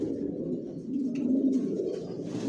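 Racing pigeons in a loft coo in a low, soft, rolling murmur that swells slightly in the middle, heard close with no talking.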